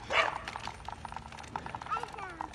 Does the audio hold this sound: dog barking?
yes